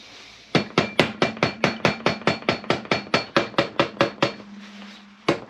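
A hammer taps a Kawasaki Z1 crankcase cover on a workbench: about nineteen sharp, evenly spaced metallic knocks close up, then a short pause and two final taps.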